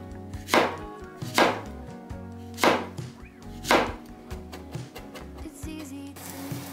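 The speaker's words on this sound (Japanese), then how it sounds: "そしてちょっと切れ味の悪い包丁" Four heavy chops from a dull kitchen knife thud against a cutting board at a slow, uneven pace, followed by a few lighter cuts, with no talking.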